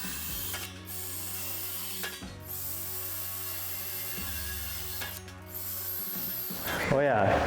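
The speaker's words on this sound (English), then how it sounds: "go ahead and start drilling all your spot weld holes" A drill with a 1/4-inch bit boring spot weld holes in an International Scout floor, a whining motor running in three long bursts separated by brief pauses, ending in a louder scraping rattle.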